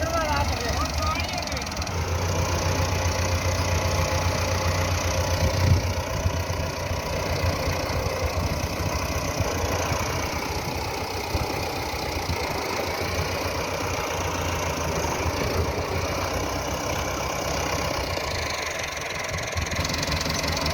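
A tractor engine idling beside an overturned trailer loaded with maize, a steady low rumbling chug that continues throughout while people talk over it.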